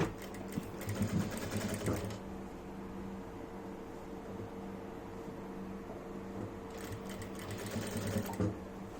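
A sewing machine runs steadily while stitching the pleats of a nightie, giving a close, continuous mechanical hum with a faster whirring burst at the start and another near the end.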